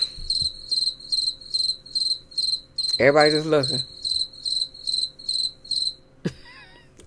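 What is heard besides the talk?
crickets chirping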